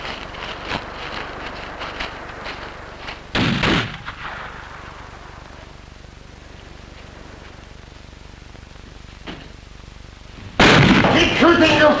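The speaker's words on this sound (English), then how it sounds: "Keep shooting, you fool!" Gunfire in a naval comedy scene, two loud sharp bursts of shots a few seconds apart, separated by a quiet stretch with faint background noise and no talk.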